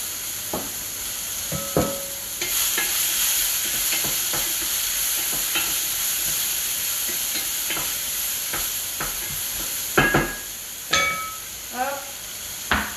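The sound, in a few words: courgettes frying and being stirred in a pan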